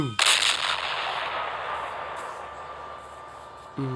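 A cannon from a Minecraft PE add-on fires with a sharp, loud blast followed by a long fading rumble and hiss, then a fresh tonal sound cuts in just before the end.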